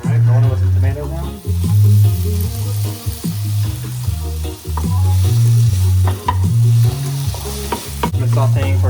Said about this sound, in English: I'm sauteing for another minute with the tomatoes.